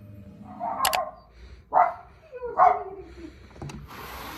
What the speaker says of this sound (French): Et alors là, chien de garde.